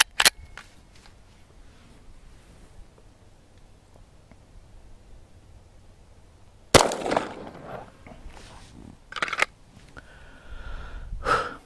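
Pistol shots from a Canik TP9 SFX fired at 3 metres on a range: a sharp report at the start, then after a quiet stretch a louder cluster of cracks and bangs with echoing tails, spaced irregularly.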